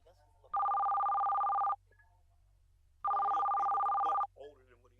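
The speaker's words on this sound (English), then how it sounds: "Phone?" A telephone rings twice in steady electronic bursts, each about a second long with a pause between, fairly close and clear, with a faint voice murmuring briefly between and after the rings.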